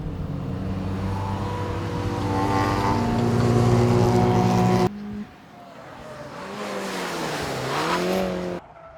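Engines roar loudly as varied cars race past at Llandow Circuit during a trackday, a steady high-revving drone with shifting pitch and occasional tire noise, no voices.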